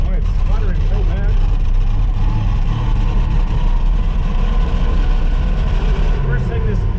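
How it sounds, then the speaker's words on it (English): A big old tractor engine chugs and sputters unevenly, loud and near, with a rough low rumble running throughout and no voices. "Oh, it's sputtering so bad."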